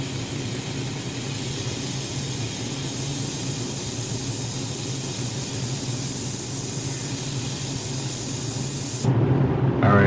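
Airbrush spraying paint at 30 psi on a model ship, a steady close hiss of air and paint that runs unbroken for about nine seconds before the pressure changes near the end.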